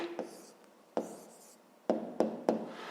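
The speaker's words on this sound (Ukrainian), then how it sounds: "Пишемо тоді відповідь." A pen scratches out a maths answer by hand on paper during a fifth-grade lesson, in a few short, quiet strokes spaced across a few seconds, with no speech.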